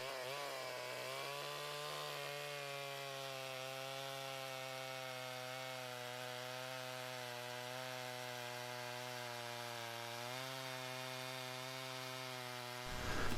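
A chainsaw runs at a steady, sustained whine while carving a whimsical wooden sculpture with bunny rabbits, one continuous droning tone that shifts slightly in pitch, heard alone without talk.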